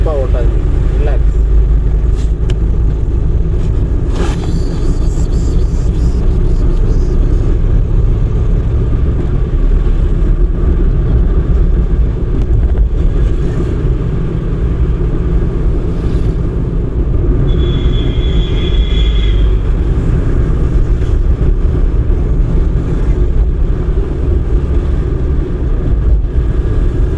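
A car on a road during a driving lesson gives a steady, loud low engine rumble and road noise throughout, with a brief high tone near the end.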